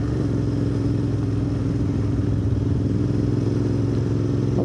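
A Royal Enfield Interceptor 650 twin motorcycle cruising a Yorkshire back lane near Barnsley, its engine throbbing steadily and close up, with a constant rumble and a faint rattle.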